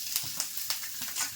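Fresh grated wet coconut frying in a pan with cashews and poppy seeds, a close, continuous crackling sizzle broken by light scraping stir strokes every few tenths of a second.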